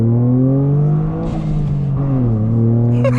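A modified 2024 Toyota GR Corolla with a 1.6-litre three-cylinder engine revs loudly up close, its droning tone rising and dipping through several pulls with a brief lull and a whine toward the end.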